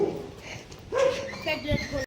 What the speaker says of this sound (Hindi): सारे कुत्ता आए जा रहे हैं भौंकते हुए